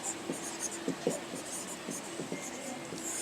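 Pen or marker writing by hand during an ENT medical lecture, soft scratching strokes in short bursts, close and fairly quiet, with faint background noise and murmured speech.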